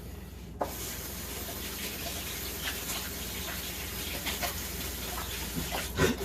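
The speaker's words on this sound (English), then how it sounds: "Rinse out my hands real quick" Hands are rinsed under a running kitchen tap, a steady close gush of water that starts abruptly and carries faint splashes. No voices are heard.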